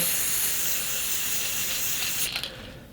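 Aerosol can of Beauty Tone olive green spray paint hissing steadily onto a rifle magazine, one continuous close spray burst that cuts off near the end with a brief rattle.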